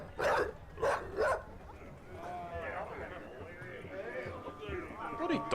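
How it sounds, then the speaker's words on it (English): Three loud, evenly spaced dog barks in the Witcher 3 video game open the scene, followed by a steady ambient game soundscape with someone talking over it. "Bloody dog making a lot of noise."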